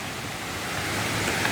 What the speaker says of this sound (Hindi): झरना जो है बहुत ही शानदार है